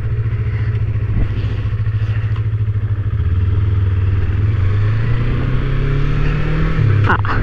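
A Yamaha MT-25 250cc twin-cylinder naked motorcycle pulls away smoothly, its engine hum steady and close with a slowly rising pitch as it accelerates, ending with a brief clack.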